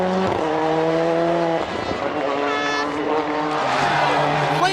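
Tony Gardemeister's rally car races through a stage at the 2002 WRC Rally Catalunya, its engine loud and close, revving high and dropping through gear changes over several seconds.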